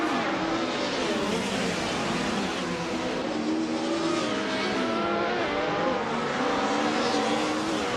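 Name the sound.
race cars in a racing video game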